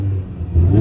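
Mini Cooper S R53, supercharged, fitted with a Milltek exhaust and no catalytic converter, rumbles close by with a low engine note that dips and then swells into a brief rev.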